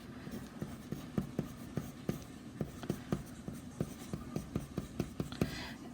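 Pen strokes writing math expressions by hand come as quick, repeated scratches and taps in an uneven rhythm, close and quiet, with no talk.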